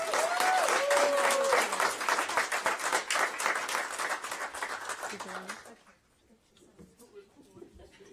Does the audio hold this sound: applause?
yes